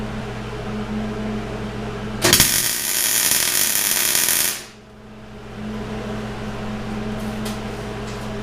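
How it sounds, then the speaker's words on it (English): An arc welder lays a tack weld on a steer arm fitted to a 2004 Super Duty Dana 60 front axle, a loud, even electric crackle lasting about two seconds before cutting off. A steady mechanical hum continues underneath. "So I'm going to tack weld here, and then I'm going to tack weld here for the same reason."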